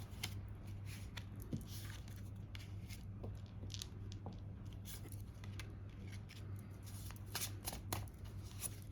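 Tarot cards shuffled by hand close up, a run of crisp riffling snaps and soft slides that keeps going in uneven bursts, with no talking over it.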